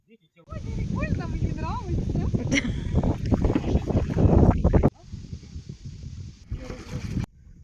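Gusty wind buffets the microphone outdoors on a river during a kayak outing, roaring in uneven bursts while someone talks over it.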